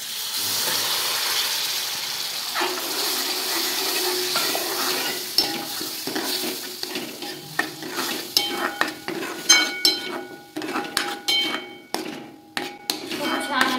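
Chopped spinach tipped into a frying spice and chilli mix and stirred, a steady sizzle that gives way to repeated spoon scrapes and knocks against the pan, growing louder and more rhythmic toward the end.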